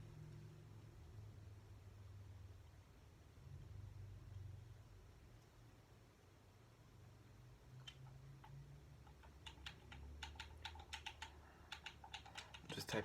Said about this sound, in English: Just typing it on YouTube.